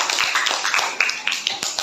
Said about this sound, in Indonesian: Tepuk tangan buat Arbi.